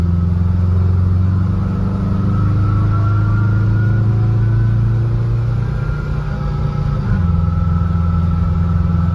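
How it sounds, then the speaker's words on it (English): A Subaru 4EAT automatic transmission fitted with a reverse gear kit in a VW bus whines as it drives, a steady loud drone with a tonal hum that shifts pitch partway through, no voices. "That's that transmission singing."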